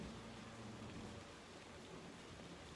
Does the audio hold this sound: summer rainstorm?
yes